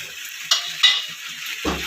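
Chilli pasta being stirred in a pan with chopped coriander, a soft sizzle with a few scraping spoon strokes and a louder clatter at the end, brief and close.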